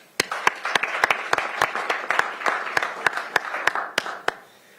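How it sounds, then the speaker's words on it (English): Applause at a county council meeting, a room of people clapping with sharp individual claps standing out, moderately loud and steady for several seconds. "give them you. a round of applause."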